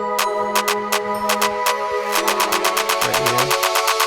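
In an EDM remix of elevator music, a crisp clap sound repeats in a steady beat over sustained synth pads, speeding into a rapid roll near the end alongside a bass swell, with no voices.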